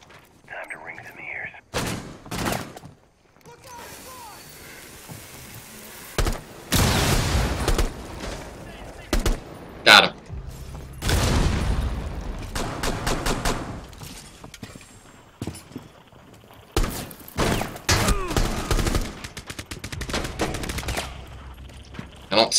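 Bursts of gunfire in a team shooter video game, rapid volleys and single shots coming in loud irregular clusters, mixed with a few booms and footsteps while players talk over the action.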